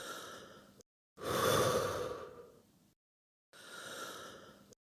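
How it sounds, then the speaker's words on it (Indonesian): A slow, deep breath is drawn in and then let out in a long, audible exhale, followed by another breath, close and clear, with silent gaps between and no talking. "Lalu tarik napas dalam-dalam dan hembuskan."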